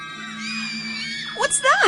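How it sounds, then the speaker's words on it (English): Several children scream together in a dark hall, a dramatic audiobook effect; a long, sustained chorus of high voices holds steady, then breaks into rising and falling shrieks that grow louder toward the end. "As the group walks through the dark hall, several of the children scream."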